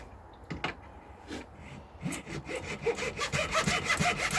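A hand saw rasps through hard wood clamped tight for a 1958 Flying V guitar build, giving quiet uneven strokes at first and then faster, stronger rhythmic back-and-forth cuts close by.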